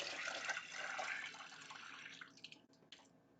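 Milky rinse water from washed flour dough for seitan is poured off, a brief gushing splash that tapers away into a few faint drips and trickles.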